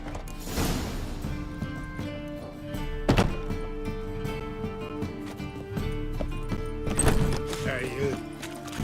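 Horse hooves clopping in The Witcher 3: Wild Hunt, with thunks and heavy game music beneath and a voice speaking over part of it.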